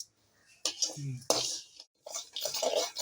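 Raw rice being stirred as it roasts in a pan, with rattling grains and spatula scrapes against metal in short bursts separated by brief pauses, and a voice speaking faintly.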